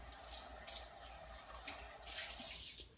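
Warm water running from a tap into a sink as a chalice is rinsed after Mass, a steady, soft splashing stream with brief surges, heard alone at close range.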